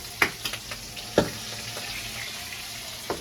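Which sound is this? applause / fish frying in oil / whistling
fish frying in oil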